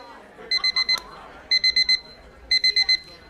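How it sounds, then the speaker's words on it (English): An alarm clock rings in a workshop room during a TEDx event: three bursts of four rapid electronic beeps each, evenly spaced, loud and close over faint room murmur. "I always find the alarm clock works."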